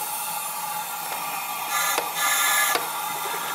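Compressed air hisses steadily out of the intake of a Honda Civic engine during a cylinder leak-down test, the hiss swelling and dropping in a couple of bursts, close and fairly loud.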